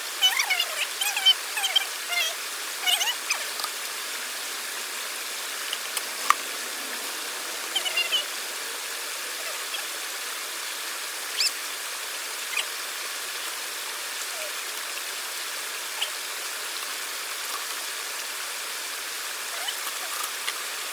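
Stream water running through a 50-inch backpack gold sluice, a steady faint broadband rush with scattered small splashes and drips near the start, continuing evenly throughout.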